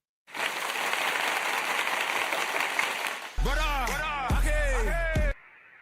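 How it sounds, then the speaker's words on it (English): A burst of applause lasting about three seconds, then loud voices calling out. "Let me give them a round of applause."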